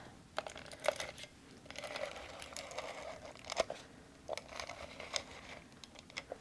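Tape runner rolling adhesive onto a card base, quiet crackling crinkles and short sharp clicks repeating irregularly, close and faint with no talking.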